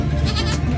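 A goat bleats loudly and close by at a busy livestock market in Malasiqui, one sustained nasal cry over steady crowd and background noise.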